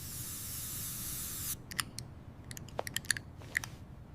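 A perfume spray gives one bright hiss lasting about a second and a half, then stops, followed by a scatter of light clicks and taps in a quiet room.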